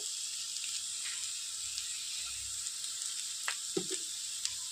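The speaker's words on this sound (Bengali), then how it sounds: "আলু মশলা দিয়ে খুব ভালো করে কষিয়ে নিয়েছি।" Potatoes cooked down with spices in a pan sizzle softly and steadily, with a few brief scrapes and stirring knocks near the end and no voices.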